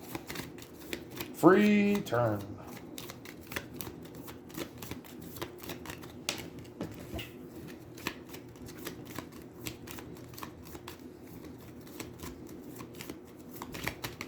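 A deck of Aeons End cards is shuffled at the table in quick runs of crisp riffling clicks throughout, with a short spoken remark early on.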